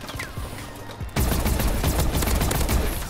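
An OHM gun in shotgun mode fires in Call of Duty: Advanced Warfare, a dense, loud burst of gunfire that starts abruptly a second in and continues with rapid overlapping shots to the end.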